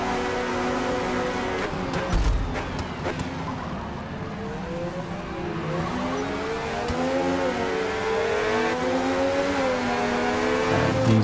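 A 1970s Formula 1 race car engine screams at full throttle in a racing video game, a loud, close, continuous wail whose pitch climbs and dips through gear changes, with other cars faintly underneath.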